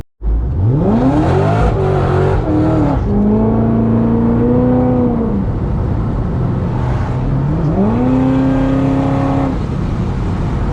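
A powerful Corvette engine revs up repeatedly through the gears, its pitch climbing and dropping, then surges again later, loud and close inside the car.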